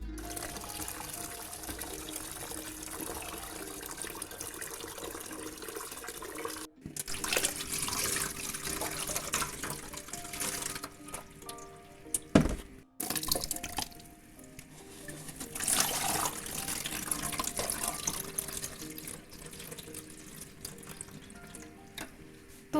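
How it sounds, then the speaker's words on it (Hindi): Uncooked rice being washed in water at a kitchen sink, with steady running and splashing water throughout, a few sharper sloshes and clatters, and a brief pause partway through. "राइस को धो लेते हैं, उठाएं चावलों को और यहाँ रखते हैं और इसे करते हैं वॉश।"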